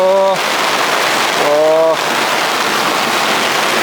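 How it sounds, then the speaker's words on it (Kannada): Steady, loud rain hisses throughout, with two short harmonic tones, like a voice or horn, briefly cutting through at the start and middle. "ಇದು ಮಳೆ ತುಂಬ ನಿಲ್ಲೋ ಥರ ಕಾಣಲ್ಲ"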